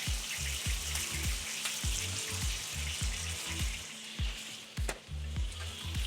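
Food fries in hot oil, a soft, constant sizzle heard up close, with a faint click partway through; a rhythmic low thumping pattern runs underneath.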